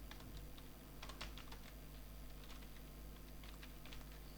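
Quiet, close typing on a computer keyboard, bursts of rapid key taps separated by short pauses over a low steady hum.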